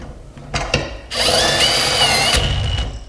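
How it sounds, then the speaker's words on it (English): A DeWalt 5-in-1 power tool runs as a drill on its clutch setting, giving a loud, steady whine for about a second and a half after a few short starts, then cutting off. "It's just using the clutch on the drill, so probably not the beefiest"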